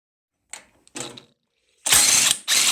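A hand ratchet loosens the head bolts on an 18.5 horsepower Briggs & Stratton engine from a John Deere LA100 mower, with a few short clicks followed by two longer bursts of rapid ratcheting close up.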